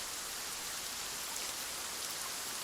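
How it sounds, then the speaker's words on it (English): Steady rain falls continuously on a first workday outdoors, a dense even hiss with soft pattering drops throughout, moderately loud and alone with no voices. "Who could have known it would rain on my first day on the job?"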